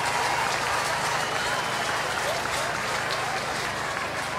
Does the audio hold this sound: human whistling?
no